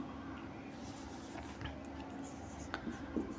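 Faint scratching of writing on a board during a class-10 trigonometry lesson: quiet, intermittent strokes and taps over a low room hum.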